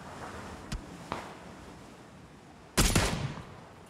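Gunfire in PUBG: two sharp distant shots a moment apart, then a louder close burst of rapid fire with trailing echoes, over a quiet windy background and no talk.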